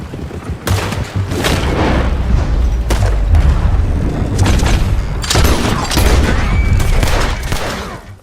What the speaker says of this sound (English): Shoot that bastard already.